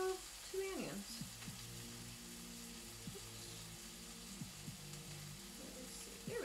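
Onions sizzle steadily in a hot pan for Philly cheesesteaks, a close, continuous frying hiss with occasional stirring scrapes and a low hum running underneath.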